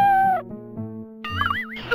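A synthesized cat meows in the 1994 Super Nintendo preschool game Mario's Early Years, short wavering electronic mews with a warbling vibrato, set against simple game tones, clear and close.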